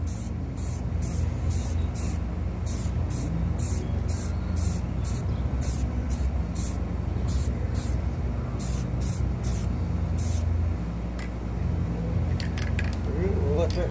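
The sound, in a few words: paint being sprayed onto a plywood sign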